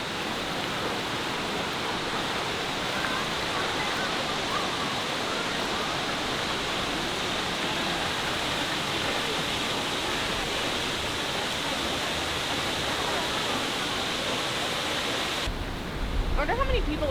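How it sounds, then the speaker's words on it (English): Veliki Slap, the big waterfall at Plitvice Lakes in Croatia, roars as a constant broadband rush of falling water. Voices murmur faintly beneath it, and the sound shifts briefly near the end. "We're gonna go see Veliki Slap, or Big Waterfall."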